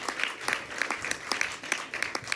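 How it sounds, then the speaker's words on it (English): Applause from the audience at Gullroten 2022 in Norway, a talk event, with scattered individual claps standing out over a thin, steady patter. The clapping is moderate in volume and fairly sparse, as from a smallish crowd. "A warm applause."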